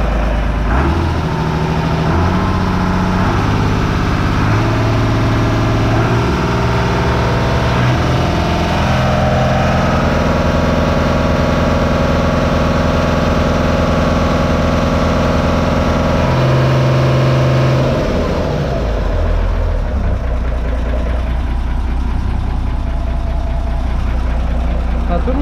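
A motorboat engine idles loudly and steadily, a low rumbling drone that shifts pitch slightly partway through.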